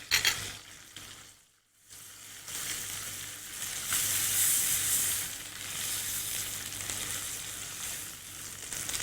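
Onions with garlic ginger paste sizzle steadily in a pan while butter chicken is cooked, a continuous bright hiss with a brief dip near the start and no voices.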